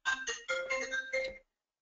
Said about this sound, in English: Just ignore that phone.